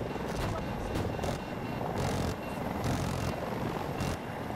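Military helicopter, a Hind, during a Battlefield 2042 match: a steady, loud rotor and engine drone runs the whole time with pulsing rhythm, while a voice talks over it.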